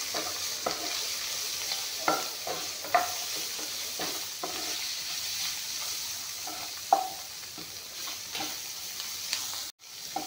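Mushrooms fry with spices in a pan, giving a steady low sizzle while a utensil scrapes and taps the pan at irregular intervals. The sounds are close, quiet and without talk.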